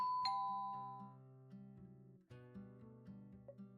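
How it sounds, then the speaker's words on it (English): Doorbell chime of an antique shop in a video game, a bright ding that rings out and decays, followed by soft tonal game music notes, alone without talk. "The man in the black jacket rings the doorbell of the antique shop."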